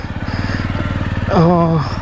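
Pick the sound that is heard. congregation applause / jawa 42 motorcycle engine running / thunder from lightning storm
jawa 42 motorcycle engine running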